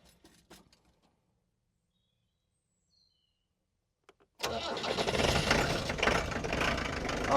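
Land Rover Defender 110 with an old alternator is cranked and fires up, preceded by a few faint clicks and clunks in near silence, then the engine catches abruptly and runs loudly and steadily at close range.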